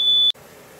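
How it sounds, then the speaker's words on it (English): A kitchen smoke detector sounds a single loud, piercing electronic beep lasting about a third of a second, followed by steady background hum. "Oh, the alarm went off."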